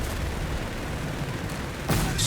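Whizbang rocket artillery barrage in the Company of Heroes 3 game, a steady roar of battle noise broken near the end by a sudden loud blast.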